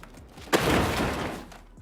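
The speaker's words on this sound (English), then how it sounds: "I'm going to try and just remove the bumper" A plastic rear bumper comes off a Jeep Wrangler JL with one sudden clunk, followed by a brief scraping rattle that fades out.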